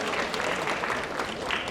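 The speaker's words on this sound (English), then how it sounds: "A round of applause for our JSLT candidates." Brief burst of applause from an audience at a 2025 student union debate, dense steady clapping in a hall, close and continuous.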